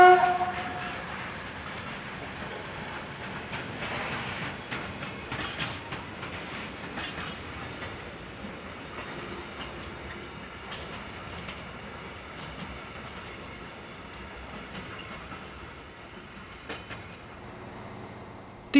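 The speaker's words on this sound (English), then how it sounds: "A nice surprise was this XDR Class 345 shunting loco, arriving on this trip freight." A DR Class 345 shunting locomotive arrives hauling a trip freight train at a German rail yard, its engine rumble and rolling wagons steady and moderately near, with a brief horn-like tone near the start.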